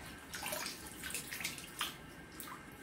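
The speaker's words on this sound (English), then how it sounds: "Squeeze the water out of it." Wet paper towels wrung out by hand release bursts of trickling, splashing water in several close, uneven squeezes, with no talking.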